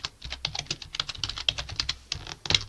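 Fingers type quickly on a computer keyboard, with a dense run of crisp, close key clicks and taps in an uneven rhythm and no voices.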